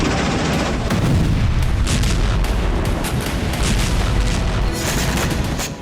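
Artillery fire in the Ukraine war near Luhansk: loud, dense bursts of booming blasts and sharp cracks follow one another continuously, with no voices.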